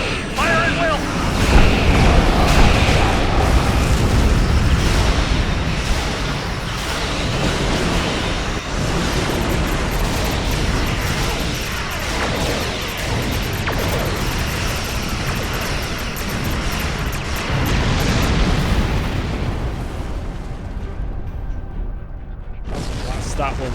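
Starship weapons fire against Klingon attack ships in a Star Trek space combat game, a loud continuous wash of blasts, rumbling explosions and engine roar, with voices talking over the battle.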